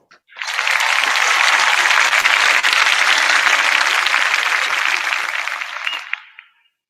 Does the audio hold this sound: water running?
no